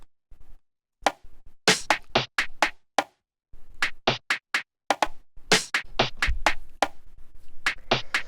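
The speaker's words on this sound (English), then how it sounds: "a bunch of different little percussion sounds like this that are playing on the 16th notes" Several layers of small background percussion in a minimal house groove, with clicky, scratchy ticks and taps running in quick 16th-note patterns, sparse at first and then busier, with a soft low thump entering near the end.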